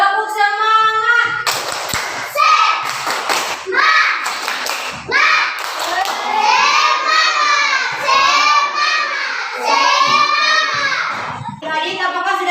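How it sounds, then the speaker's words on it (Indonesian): Young children clap their hands together in a classroom lesson, a sharp burst of clapping between an adult's instructions, with children's voices calling out and talk continuing over the top. "Oke, tepuk tangan dulu ya. Tepuk semangat."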